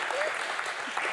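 Audience applause at a talk about a music label run from prison, a brief burst of steady clapping from a crowd.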